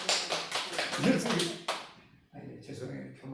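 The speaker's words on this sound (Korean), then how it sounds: "박수 한번 쳐요." A church congregation claps together during a Sunday sermon, a short burst of applause following the preacher's speech, with talk resuming after it fades.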